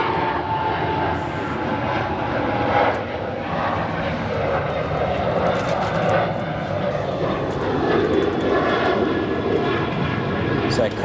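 A Cargolux cargo jet with four General Electric GEnx engines takes off from a distant runway, producing a steady, broad engine roar throughout while someone talks over it.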